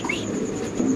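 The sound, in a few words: Spanish fancy pigeons cooing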